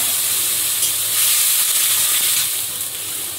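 Prawns fry in a hot pan, giving a steady, loud, close sizzle and hiss that swells a little partway through, with no voices over it.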